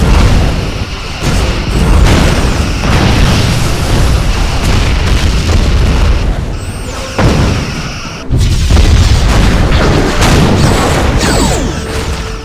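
Starship torpedoes fired in Star Trek Bridge Commander, launched from the rear tubes: loud, continuous booming blasts with a few sharp breaks and heavy rumbling throughout.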